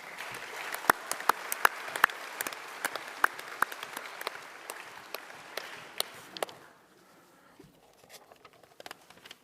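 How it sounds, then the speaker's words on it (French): Audience applause at the inauguration of a sports complex, a crowd clapping with sharp distinct claps for about six and a half seconds, then dying down to a few scattered claps in a quiet room. "Et on peut l'applaudir."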